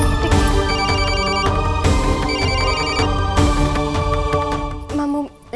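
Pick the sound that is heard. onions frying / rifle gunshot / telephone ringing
telephone ringing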